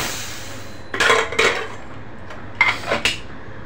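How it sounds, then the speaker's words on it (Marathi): A pressure cooker being opened in a home kitchen, with a few close metallic clinks and knocks of the lid and pot, in two short pairs separated by a pause. "आता आपण कुकर उघडून बघणार आहोत,"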